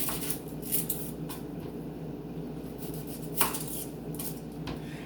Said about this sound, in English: And then I slice it right down the middle